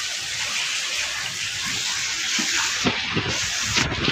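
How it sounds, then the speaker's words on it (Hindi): Heavy rain pours outside with water running and gushing, a steady dense hiss throughout with a few splashing bursts near the end; no talk. "केते जोर वर्षा होती आप देखिए बाहर है"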